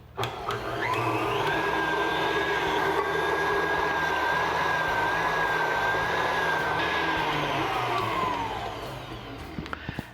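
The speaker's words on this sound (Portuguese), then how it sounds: "Então eu vou ligar a batedeira e vou colocando os ovos." Electric stand mixer beating butter, sugar and eggs for chocolate muffins, a loud steady whirring motor that starts up, runs for about seven seconds with a rising whine, then winds down.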